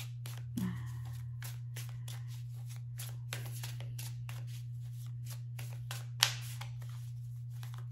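A deck of tarot cards being shuffled close up: quick, regular papery riffles repeating throughout over a steady low electrical hum, with a couple of sharper taps.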